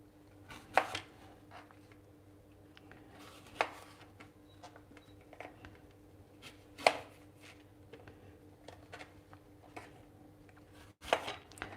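Knife cutting peeled apples into wedges for crepes, a handful of sharp isolated chops spaced a few seconds apart against a steady low kitchen hum, fairly quiet with no talking.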